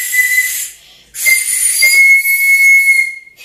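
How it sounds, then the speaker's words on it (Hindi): A small toy whistle from a Kinder Joy surprise egg is blown twice, near and loud, giving a breathy, shrill steady tone with a short pause between the blows. "और ये एक सीटी है,"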